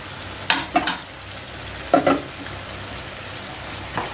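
Tomatoes frying in a pan for a prawn masala roast give a soft, steady sizzle, broken by a few brief scraping stirs of a utensil.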